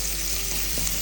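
Onions frying with ginger and garlic for a sardine curry give a steady, loud, close sizzle that fills the short stretch on its own, with one faint knock partway through.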